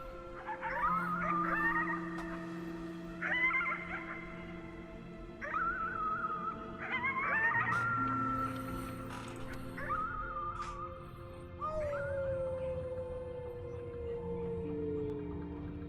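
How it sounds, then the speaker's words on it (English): Howling at the moon in the video game Before Your Eyes: a series of rising, wavering howl-like calls repeat in bursts over a steady low droning backdrop, moderately loud and without talk. "You howled at the moon at the top of your lungs"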